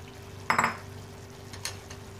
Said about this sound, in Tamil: ஸோ நான் அடுத்து வந்து புளி தண்ணி சேர்க்குறேன்.